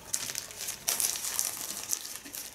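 Crinkling of a small pink plastic packet being handled up close, a steady run of crisp rustles with a few louder crackling bursts, no talking.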